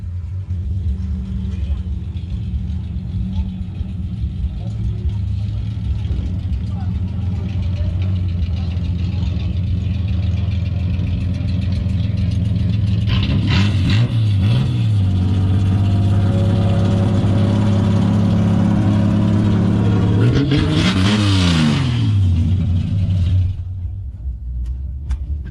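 A classic Chevrolet Opala's engine revs and accelerates amid an outdoor vintage car gathering, with a steady low rumble and two sharp rising surges, the second louder, while people talk over the din.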